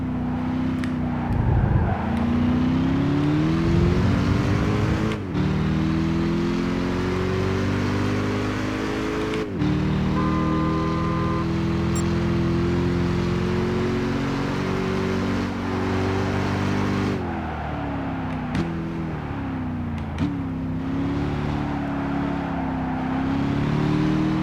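A race car engine in Gran Turismo 5 roars continuously, rising and falling in pitch as it revs through gear changes and corners, loud and unbroken with no voices.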